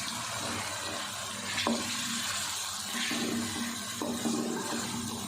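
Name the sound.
chicken frying with ginger-garlic paste in a pan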